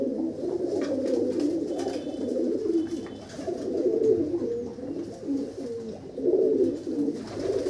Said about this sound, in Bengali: অনেক পায়রা আছে।